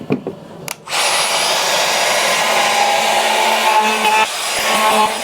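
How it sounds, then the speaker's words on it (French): A Bosch trim router runs continuously at high speed, whining steadily as it cuts along the edges of holes in a wardrobe panel, loud and close after a brief startup, with no talk over it. "je vais passer dans chacun des trous et des deux côtés un coup d'affleureuse, puisque ceci est une affleureuse."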